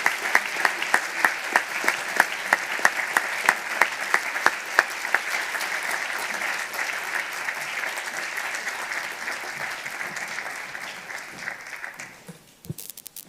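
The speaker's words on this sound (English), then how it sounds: "please rise, because this is your applause." An audience at a model UN closing ceremony applauds, sustained dense clapping with a few sharper claps, steady for about twelve seconds before fading out quickly.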